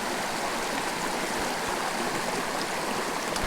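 A creek flows beside a tenkara fly-fishing spot, a steady, close, dense rush of water that holds constant throughout with no voices.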